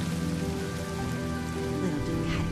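Steady rain falling throughout a Honkai: Star Rail video game cutscene, a dense even patter on surfaces with a faint low musical drone beneath, no voices.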